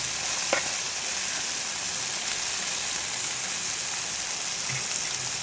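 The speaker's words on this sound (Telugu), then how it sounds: "ఆయిల్లో ఫ్రై చేసుకోవాలి బెండకాయ ఫ్రై." Sliced okra frying in hot oil, a steady dense sizzle and crackle throughout with a faint utensil tap near the start, close and fairly loud with no voices.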